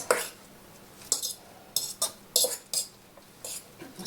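Shredded zucchini being stirred into an egg mixture in a bowl, a series of short scraping and clinking strokes of utensil against the bowl in uneven bursts, close and with no voices.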